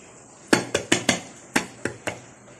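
A plate is set over a mango pudding mould and the two are flipped together, giving about seven sharp, close clinks and clatters of dishware in quick, uneven succession.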